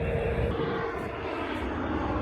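Airplane passing overhead near an airport, a steady broadband engine roar held at moderate distance for a couple of seconds over open farmland, with no talk.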